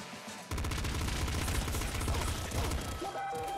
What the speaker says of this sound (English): Bouncy revolver.